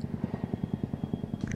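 A Vertol tandem-rotor helicopter passes overhead, its rotors producing a fast, steady thudding beat of rhythmic blade slaps, moderately faint and heard alone.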